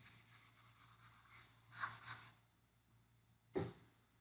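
A board eraser rubbing across a board during a long division lesson, two soft scrubbing bursts followed by a sharper single swipe, fairly quiet with no talk.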